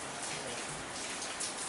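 Rain falls steadily outdoors as a dense, even hiss with no breaks and no voices.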